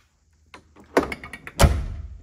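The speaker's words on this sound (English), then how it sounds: "Just hear how the door shuts." Door of a 1995 Land Rover Defender 110 three-door hard top being shut, a few light latch clicks followed by a solid metallic slam with a short ringing tail, close up and alone.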